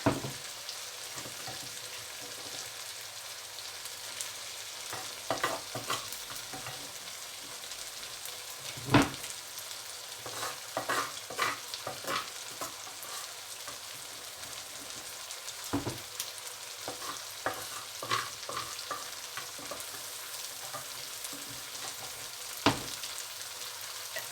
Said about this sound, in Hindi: अब हम इसमें बैंगन डालेंगे, जो बैंगन हमने जहाँ भरता बना के रखा था